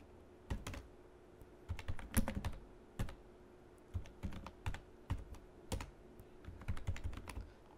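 Keys clack in quick irregular bursts and single taps while code is typed on a computer keyboard, close and fairly quiet, with no voices.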